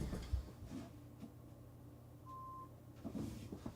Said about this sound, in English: I've got to turn the baby monitor off. You're going to hear that beeping the whole time.